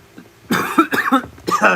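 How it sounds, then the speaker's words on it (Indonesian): A few harsh coughs in quick succession, close and fairly loud, with faint sounds before them. "Batuk saya nih. Batuk saya kak."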